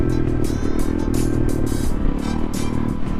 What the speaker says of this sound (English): Scotty's back on a 450. He got a YZ 450